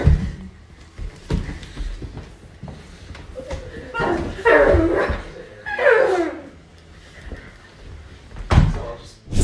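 A woman imitates a dog, giving yips, whimpers and bark-like cries in short bursts close to the microphone, with bumps and thuds between them.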